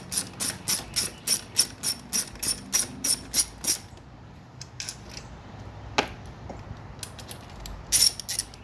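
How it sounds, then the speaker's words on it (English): Bolts are worked loose and pulled out with a ratcheting tool, about a dozen quick, even clicks in a row, then a pause and a few scattered metallic clinks and taps close by. "let's go ahead and get these bolts right here pulled out"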